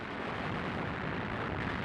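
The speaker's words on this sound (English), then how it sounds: "Rommel's artillery took a terrible toll." Artillery fire in World War II desert battle footage, a continuous dense rumble of bombardment at steady loudness with no clear separate blasts, alone without talk.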